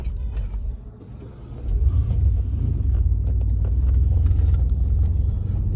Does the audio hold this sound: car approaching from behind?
yes